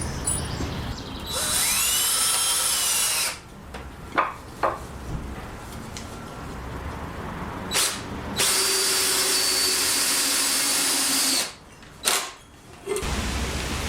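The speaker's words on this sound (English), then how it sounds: "I'm so glad we got this cordless drill." A cordless drill whirs in several long bursts, revving and slowing as it drives screws while assembling an off-grid stove, with short pauses and clunks between runs.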